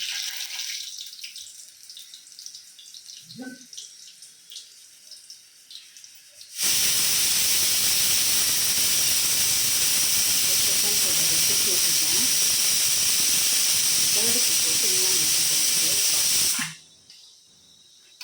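Green chili bajji fry in hot oil, a loud, dense sizzling hiss that starts abruptly after a quiet stretch with some talk, holds steady for about ten seconds, then cuts off.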